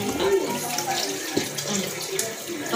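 Water running from a hand wash tap into a sink, a steady close splashing stream with small spatters, a voice briefly audible under it.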